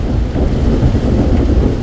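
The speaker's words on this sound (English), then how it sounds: "That's some audio of the freaky storm that's happened." A heavy thunderstorm with steady rain on the Salkantay Trail, a dense, loud wash of rainfall with deep rumbling underneath and no voices.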